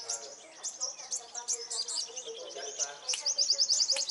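Young sunbirds chirp in quick high tweets and short trills at a home in the Mekong Delta region, fairly close and lively, with soft human voices in the background.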